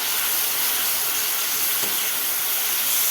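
Fenugreek leaves fry in hot oil with a constant, even sizzle and hiss and one soft knock midway. No voices.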